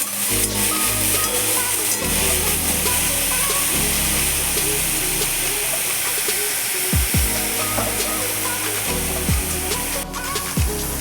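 Shrimp fritters fry in hot oil in a home kitchen, a steady loud sizzle and crackle close by, continuous throughout with occasional clinks and stirring sounds.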